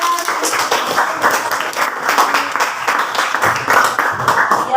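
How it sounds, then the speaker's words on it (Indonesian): Students in a classroom clap for their classmates, a light, fairly quiet round of applause with individual claps audible, steady for a few seconds. "tepuk tangan buat teman kalian"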